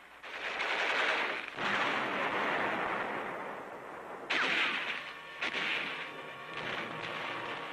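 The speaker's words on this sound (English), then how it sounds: "Marines attack enemy posts directly beneath them with bullets, hand grenades, and charges of explosives" Battle sounds from a 1944 newsreel of Marines fighting along a jungle ridge: dense, loud bursts of gunfire and explosions from bullets, hand grenades and explosive charges, with two sharp breaks as the scene cuts.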